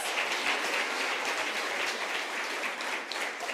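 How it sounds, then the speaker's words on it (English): A summit audience gives steady applause, a dense wash of clapping that holds evenly throughout at moderate distance. "let's give those phenomenal women a big round of applause."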